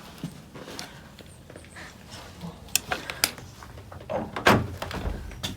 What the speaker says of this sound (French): Je vais aller voir si la porte là est ouverte.